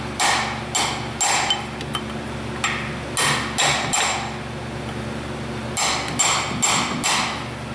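A hammer strikes a punch on a Dodge Ram truck in several spaced bursts of sharp metallic blows, loud and close, with short pauses between groups.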